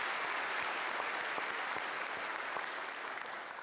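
Congregation applauding during a church's 100th anniversary Mass, a steady, moderately distant wash of clapping that runs throughout and fades slightly toward the end.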